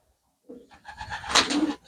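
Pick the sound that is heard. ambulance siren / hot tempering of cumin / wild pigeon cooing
wild pigeon cooing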